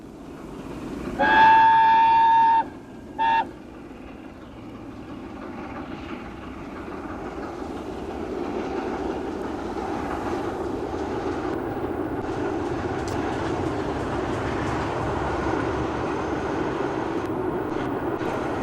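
The Mallard steam locomotive running on the East Coast main line near York, giving a loud whistle blast and a short second toot before a steady rolling rumble of the train on the rails.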